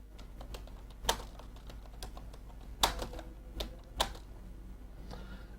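Computer keyboard keys tapped irregularly while text is entered in InPage Urdu, sparse close clicks with a few louder strikes between quieter keystrokes.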